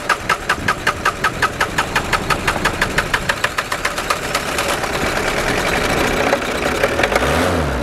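Car engine cranking in rapid rhythmic pulses during a jump-start with cables, then catching and running at a steady idle, close and fairly loud.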